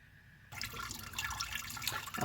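Water rushes and splashes out of a pipe as a central heating radiator system drains outdoors, starting abruptly after a quiet moment and continuing as a steady turbulent gush.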